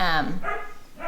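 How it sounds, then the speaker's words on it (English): A standard poodle puppy barks in short bursts, three yappy barks spread across the moment, fairly close and clear, with room noise behind. "So if you hear barking in the background"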